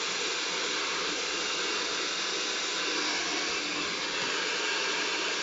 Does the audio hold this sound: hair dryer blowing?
yes